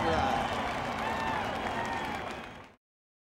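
A large NASCAR crowd at Daytona roars and applauds in a broad, sustained wash, with commentators talking over it before it cuts off abruptly.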